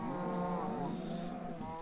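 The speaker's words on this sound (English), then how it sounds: "there's plenty of cows above" Cows moo in Minecraft, several overlapping drawn-out lowing calls heard up close and fairly loud, forming a steady din of cattle with no talking.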